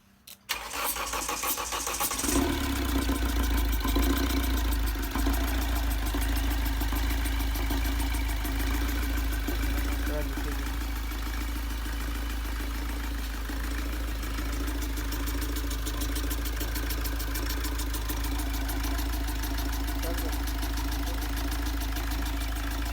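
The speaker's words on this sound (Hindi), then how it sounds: "हमारे कार का इंजन स्टार्ट हो चुका है।" A Mahindra XUV500 diesel engine, freshly overhauled, cranks briefly and catches, then settles into a steady, loud, close idle with a constant low rumble for the rest of the time.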